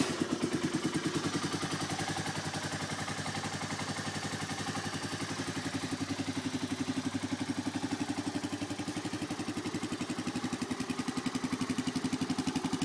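A Honda Big Red 250ES three-wheeler, fitted with a new carburetor, runs at a steady, even idle, its close, continuous engine chug unchanging throughout with no talking.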